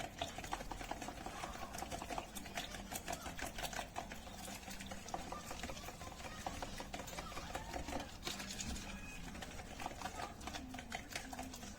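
Quick whisking of batter for a quiche that bakes like a magic cake, rapid steady rattling strokes against a bowl continuing without a break.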